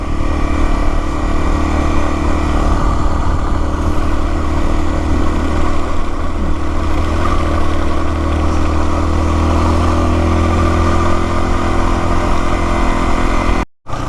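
Yamaha WR250R dual-sport motorcycle riding a forest trail in North Routt, its mid-pitched engine droning loud and steady with rattles and wind rush, cutting off abruptly near the end.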